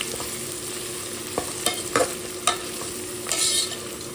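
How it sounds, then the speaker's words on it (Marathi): Crushed ginger and garlic being stirred and fried in a pan for a goat-head mutton curry, a steady close sizzle with a few sharp scraping strokes of the spoon, no talking. "आता मी त्याच्यात आलं आणि लसूण टाकते, क्रश केलेला. ह्याला पण मस्त 1-2 मिनिट शिजवू आपण लसूणला."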